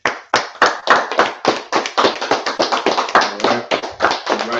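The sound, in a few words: people clapping hands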